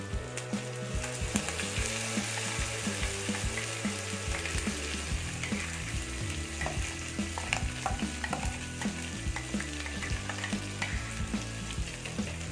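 Steady sizzling of masala frying in hot oil over a low flame for prawn gravy, with occasional stirring scrapes and clicks, continuous and close throughout.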